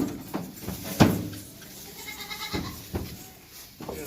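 Goats bleat at a Karachi livestock market, several loud close calls spaced across a few seconds over a murmur of crowd noise.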